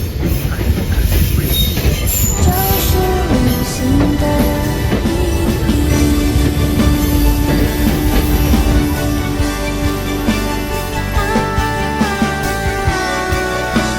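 A Vietnam North-South Railway SE1 passenger train runs steadily near Hai Van tunnel between Hue and Da Nang, with continuous loud rumble, rail noise and sustained wheel squeal throughout, no voices.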